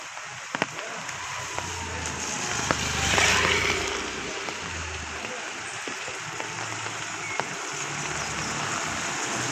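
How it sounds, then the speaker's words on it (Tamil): Rain falls steadily outside in a quiet town street, a continuous wash of patter and running water with occasional sharp drips, and a vehicle swells past midway. "எங்கள் ஊரில் மழை பெய்யுது"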